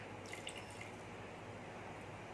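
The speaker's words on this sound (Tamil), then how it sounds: "ஒரு 1/4 டம்ளர் தண்ணி ஊற்றிக்கிறேன்." Water poured from a quarter tumbler into cooked rice and lentils for pongal in an electric pressure cooker, a soft steady trickle and splash lasting a couple of seconds, close and faint.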